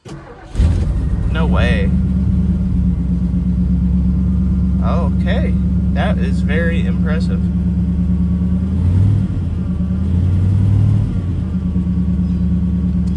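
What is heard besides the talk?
1970 Ford Thunderbird engine starting and running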